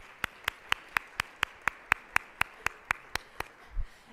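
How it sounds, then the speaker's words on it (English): Steady, evenly spaced claps ring out about four per second at a Columbus community forum on Black hair and identity, sharp and fairly quiet, with a soft thump at the end. "So let's give them a quick round of applause."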